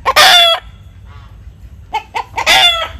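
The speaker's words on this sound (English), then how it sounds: "Then in this pen is our newest chicken edition." Purebred American Bresse chickens with white bodies, blue feet and red crowns cluck and crow in a pen, two loud close bursts of crowing framing softer scattered clucks and a quiet gap.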